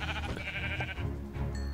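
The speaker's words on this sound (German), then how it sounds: "Hier ist das Schaf." A Minecraft sheep lets out a single wavering bleat, close and fairly loud, lasting about a second amid faint game background sound.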